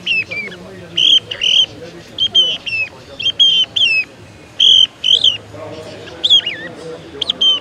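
A six-year-old child whistles in imitation of a song thrush at a thrush hunting festival, giving many short, sharp, bright rising and falling notes in quick irregular bursts, with faint crowd murmur underneath.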